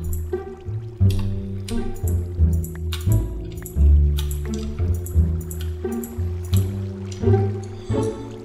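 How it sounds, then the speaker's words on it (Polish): Water being poured out in a video game, repeated drippy, squishy splashes in an uneven rhythm, each burst loud and close, with no talking. "Czekaj, ja tu wywalam wodę."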